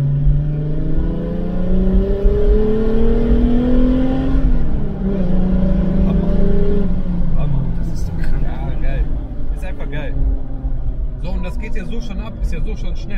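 A VW Golf 3 with a VR6 engine revs loudly and steadily, the note climbing and falling through several pulls before easing off, while people talk over it.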